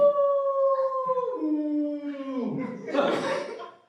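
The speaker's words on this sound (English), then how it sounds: "I think that was a coyote." A coyote howls nearby in a long, wavering call whose pitch slides downward, ending in a rougher, noisier burst before fading.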